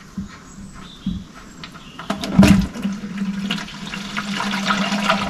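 Engine oil drains from a John Deere 6210R tractor in a steady, close liquid gush and splatter that grows fuller and keeps running without a break.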